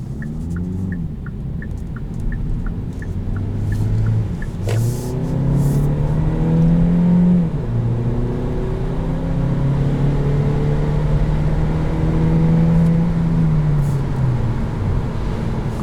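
A 2020 Kia Niro Touring hybrid drives and accelerates, its engine and road rumble rising steadily in pitch, loud and continuous from inside the cabin with no talking.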